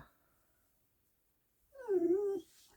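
A puppy gives a single short, faint whimper, a high whining cry that rises and falls, after a near-silent pause.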